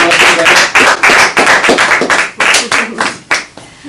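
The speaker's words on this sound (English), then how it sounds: "let's give a round of applause to our associate Sarah Bryant" A small audience at a mindset training session claps in distinct, loud, close bursts, the individual hand strikes audible rather than blended, thinning out toward the end.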